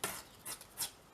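Paper strips torn off along a ruler-marked line while making a double tab pocket, giving three short, close ripping bursts spaced apart, each a bright papery rasp.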